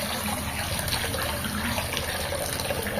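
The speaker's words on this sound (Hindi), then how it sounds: "अधिका टे पानी दे दीजिए" Water streams steadily into a vessel while making potato-stuffed bread, a faint, continuous pouring hiss with no voices over it.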